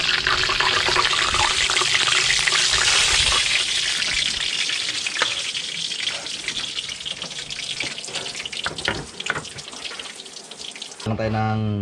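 Water pouring into a cooking pot for sinigang, a tamarind-based stew, during a shrimp and squid catch-and-cook; a steady rushing splash fills most of the stretch, with a brief voice near the end.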